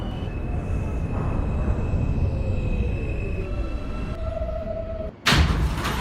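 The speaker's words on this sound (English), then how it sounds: "Stand clear of the closing doors, please." NYC subway R160A train doors in the OpenBVE simulator, a sustained car hum with a tone, then an abrupt loud thump as the doors slam shut near the end.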